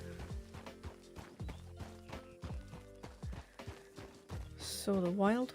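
Wild horse in Red Dead Redemption 2 (RedM), with a steady run of close hoof clip-clops that ends in a loud, wavering whinny.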